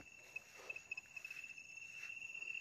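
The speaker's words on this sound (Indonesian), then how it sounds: "Jangan cuma jangkrik bunyi terus." Faint crickets chirping in a quiet night, a thin steady trill with soft scattered patters in the background.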